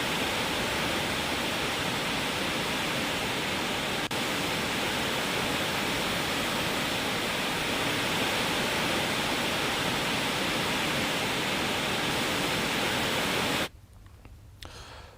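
Water released from a dam on the Narmada River rushes in a dense, steady roar that stays loud and unbroken, then cuts off abruptly near the end.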